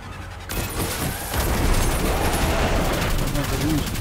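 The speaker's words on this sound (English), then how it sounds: "The shotgun's fantastic." Shotgun blasts and heavy gunfire in the sci-fi shooter video game Destiny 2, during a Dawning heroic strike; loud, dense bursts and booms crowd the mix after a brief quieter start.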